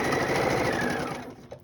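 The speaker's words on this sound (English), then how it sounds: "So now we're going to take one of the small lights and the small dark pieces. We're going to stitch those together." A sewing machine stitches small fabric quilt pieces together in a short, close, fast whirring run that slows and stops near the end.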